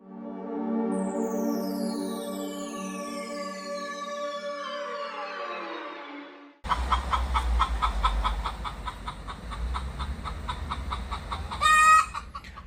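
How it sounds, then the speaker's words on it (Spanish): Chickens cluck and squawk up close in a busy farmyard chorus, with a loud rooster-like call rising near the end. "Las gallinas, tal vez usted ha escuchado este sonido"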